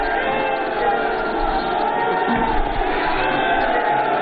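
Large crowd at an election rally in Gorakhpur applauding and cheering loudly and continuously, a dense roar of clapping and voices.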